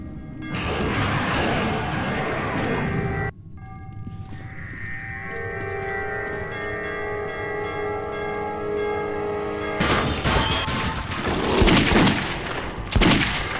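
Loud, dense gunfire in Metro 2033 Redux with heavy crashing shots at the start and end, and a long droning stretch of tonal game sound in between.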